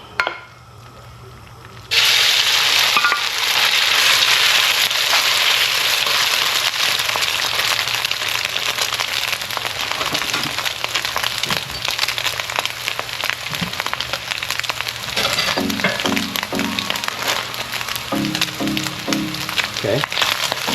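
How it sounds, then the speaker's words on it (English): Beef sizzles loudly in a hot, smoking wok for a beef and broccoli stir fry, a steady dense hiss that starts abruptly and runs throughout, with a few faint clinks near the end. "let that meat in there and let it sear"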